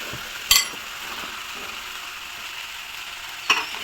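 Boiled potato pieces and peas fried in a pan for papri chaat give a steady, moderate sizzle, broken by two sharp clinks of a spatula against the pan.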